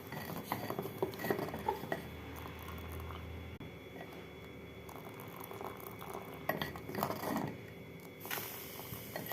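Tea with milk simmers in a clay pot while a spoon stirs it, giving soft scraping and bubbling under steady low background noise, with no talking.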